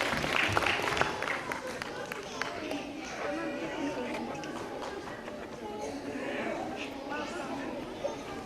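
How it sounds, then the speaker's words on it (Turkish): Applause at a girls' Quran course graduation ceremony, a broad wash of clapping from a crowd, steady throughout with voices chattering underneath. "alkışlar."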